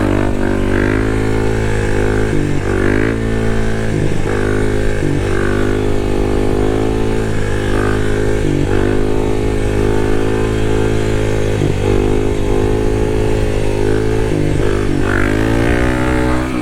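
A Kawasaki KLX300 dirt bike engine holds a loud, steady high rev with repeated throttle blips and pitch swings, recorded up close on a flat or slight uphill while the rider pulls a wheelie.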